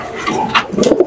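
Racing pigeons coo close by in a loft, several soft throaty coos over about a second, alone with no talking.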